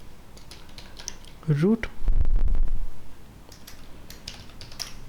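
Keys clatter on a computer keyboard in quick bursts, mixed with a voice and a brief louder thump in the middle.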